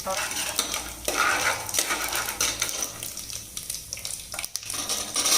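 Cumin and chana dal sizzle and crackle in hot tempering oil with fenugreek and asafoetida in a home kitchen, a steady frying hiss broken by a few utensil stirs and scrapes, close and with no voices.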